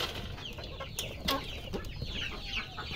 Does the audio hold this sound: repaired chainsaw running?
no